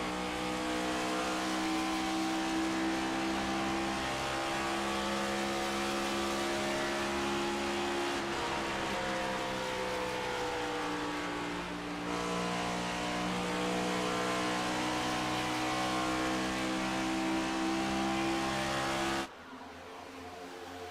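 Next Gen Cup race cars scream around the Charlotte oval, a loud sustained engine drone with layered pitches as the pack runs together, cutting off abruptly near the end.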